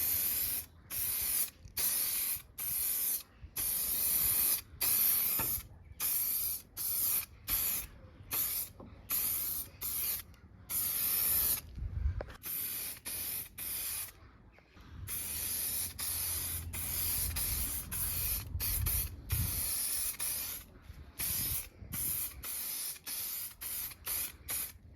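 Clear body-shop lacquer sprayed from an aerosol can with a wide fan nozzle, likely onto a 90s BMX mini frame; repeated bursts of hissing spray in a steady on-off rhythm, close and loud, with no talking.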